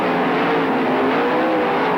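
Sprint cars race at Tri City Raceway Park, a loud, dense roar of high-revving engines filling the whole moment with no pause and no voices.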